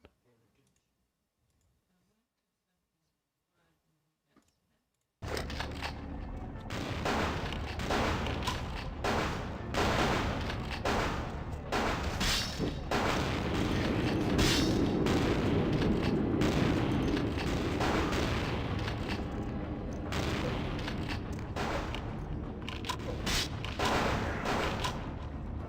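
After about five seconds of near silence, gunfire erupts in Vampire The Masquerade Bloodlines, with loud shotgun blasts and rapid clicking shots running continuously through a noisy combat scene.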